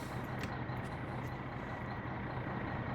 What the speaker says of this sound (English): I'm just going to leave the truck right here then.